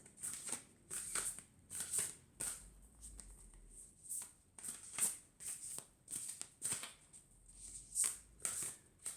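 Playing cards being shuffled by hand, a soft riffling and flicking repeated in quick, irregular bursts, close and quiet with no talk.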